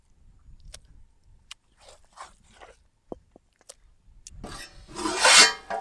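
Spices are ground by hand on a traditional grinding stone for a country chicken curry, with scattered scrapes building into a loud, sustained rasping grind near the end.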